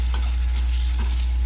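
Spices sizzling in a hot pan as salt goes in and everything is stirred, a steady close frying hiss with soft scraping strokes and no voices.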